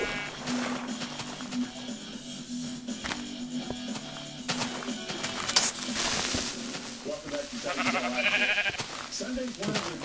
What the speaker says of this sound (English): Help me, sheep, help me.